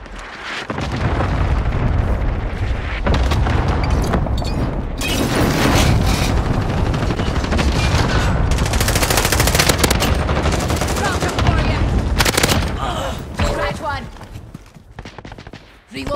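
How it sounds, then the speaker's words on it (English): Cluster strike explosions in a video game come as a dense barrage of rapid booms and gunfire-like cracks, loud and near, sustained for most of the stretch before tapering off near the end. "Allied cluster strike inbound."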